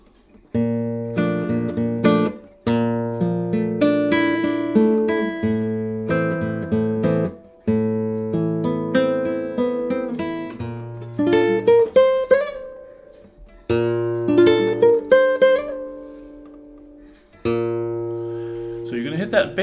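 Acoustic guitar playing the transition passage of a song, with plucked notes, slides up and down and ringing chords in a slow, steady phrase, close and clear with no voice over it.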